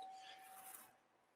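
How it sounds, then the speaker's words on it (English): A bright electronic doorbell chime rings once and fades, fairly faint and distant, with no voices. "That's the doorbell."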